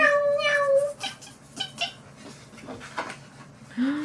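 A cat gives a clear, drawn-out meow up close, then short, fainter chirps and rustling follow, and a second rising meow comes at the end.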